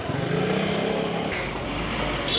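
A bus arriving at a stop in India, its engine idling and revving loudly nearby with a rough, steady drone that shifts in pitch partway through, no speech over it.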